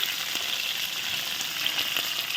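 Cauliflower curry with added salt frying in a pan, giving a dense, steady hiss of sizzling oil with faint stirring scrapes, close and fairly loud, no voices.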